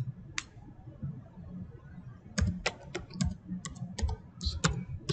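Tapping a password into a mobile phone app, a series of crisp, isolated clicks, one early and then a quicker run of taps, over a low background hum.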